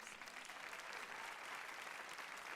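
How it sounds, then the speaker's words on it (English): An audience at a vocal masterclass applauds with a dense, steady patter of clapping that carries on evenly throughout and sounds somewhat distant and moderately quiet. "let's give all y'all a real big round of applause"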